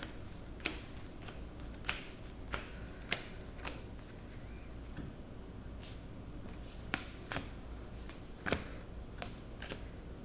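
Pokemon trading cards being drawn one by one from a deck: about a dozen sharp, papery snaps at irregular intervals over a faint background.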